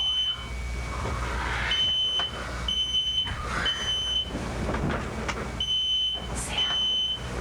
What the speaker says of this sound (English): It's smoky. The alarms are going off.